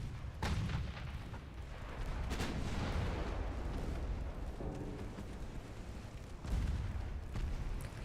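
Naval gunfire from warship secondary batteries in the Ultimate Admiral Dreadnoughts game, a dense, continuous barrage of booming shots with a heavy blast near the start and another strong burst late, no talk over it.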